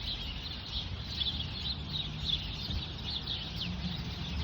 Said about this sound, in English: Listen to those birds.